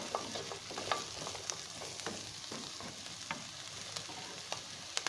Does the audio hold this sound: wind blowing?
no